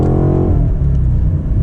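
A BMW M8 Competition Convertible's engine flares loudly on a dual-clutch downshift into second, a rising rev-matched blip that settles into a deep, steady rumble, heard close from inside the open car.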